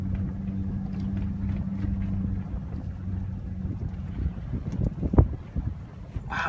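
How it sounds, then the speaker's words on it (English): Strong wind gusts buffet the microphone outdoors at a rural gate off a county road, a steady low rumble rising into louder bursts near the end, with no talking. "Wow, it's windy today."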